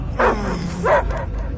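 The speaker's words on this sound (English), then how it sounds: "I hear only barking." Cosmo the dog, in the Guardians of the Galaxy video game, gives two close, loud barks spaced about half a second apart, with no talking.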